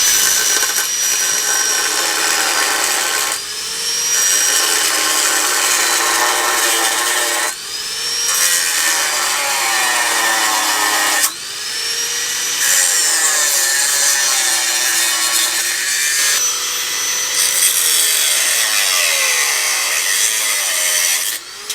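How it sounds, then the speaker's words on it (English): An angle grinder with a cutting disc slices through metal parts on a vintage transporter project, producing loud, sustained high-pitched screeching cuts in several long passes separated by short breaks, with no talk. "There we go, the angle grinder made short work of that."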